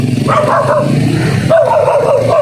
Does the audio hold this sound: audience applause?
no